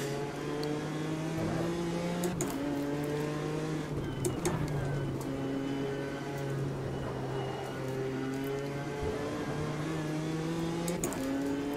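A race car engine in the sim game Automobilista 2 drones steadily at high revs, its pitch climbing and dropping sharply through gear changes and braking over several passes, close and loud with no talk.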